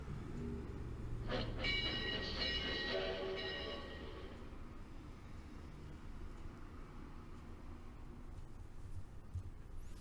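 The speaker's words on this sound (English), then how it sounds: "Definitely arriving by train there." Train rumble from the World War II strategy game Strategic Command: World War II, with a bright horn-like or brake tone over a low mechanical roll for the first four seconds before settling into a steady rumble.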